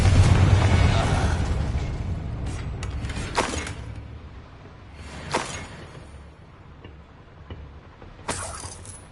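Confringo blasts from Hogwarts Legacy: several sharp explosive bursts with crackling tails, spaced a second or two apart after a loud opening rumble, moderately loud with no voices.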